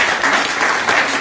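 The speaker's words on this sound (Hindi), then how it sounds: "राजेश सर के लिए एक बार तालियां हो जाए यार" A class of students in a mobile phone repair course applauds their teacher, steady dense clapping throughout at close range.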